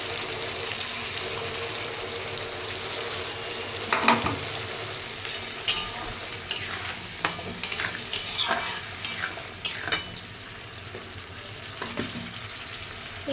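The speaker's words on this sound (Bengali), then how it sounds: "পেস্টটা দিয়ে দেবো। এবার দিয়ে ভালো করে কষাবো।" Potato curry with green chilli paste being sautéed and stirred in a pan, a quiet bed of sizzling broken by scattered scraping clanks of the spoon that grow busier midway, close up with no talking.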